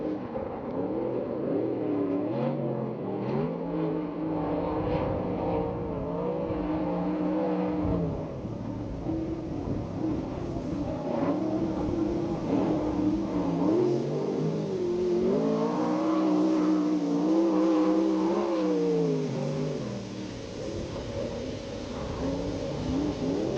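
A USAC/CRA sprint car fires up and runs a single qualifying lap at Perris Auto Speedway, its engine roaring loud and close as it rises and falls in pitch through repeated revving surges around the track.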